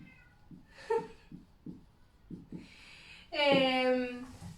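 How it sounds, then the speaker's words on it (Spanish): A cat meows close by: one loud, drawn-out meow near the end follows several softer, brief sounds. "me llama mi gato"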